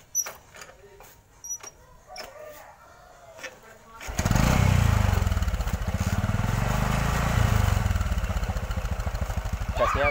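A motorcycle with an uncleaned spark plug cranks with several sputtering, uneven attempts, then catches and roars into a loud, steady running idle at close range.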